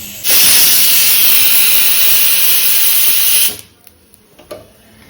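Malabar spinach stalks hit hot oil in a pan with a loud, sudden hissing sizzle that holds for about three seconds, then drops away to near quiet with a few light knocks.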